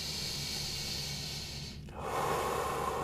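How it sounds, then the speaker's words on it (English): A single long, deep breath during a yoga session, a steady airy inhale giving way to a fuller, louder exhale, close and quiet with no talking. "Big breaths."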